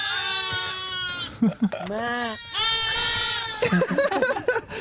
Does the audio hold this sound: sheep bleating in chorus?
yes